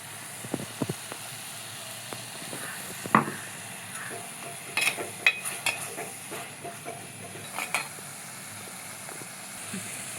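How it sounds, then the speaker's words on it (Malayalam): Crushed ginger and garlic sizzle gently in a clay pot, a soft steady hiss broken by scattered stirring scrapes and light clinks from a utensil, fairly quiet and close. "നമുക്ക് ചതച്ച് വെച്ചതാ ഇഞ്ചിയും വെളുത്തുള്ളി നമുക്കിതിലേക്ക് ഇട്ട് കൊടുക്കാം"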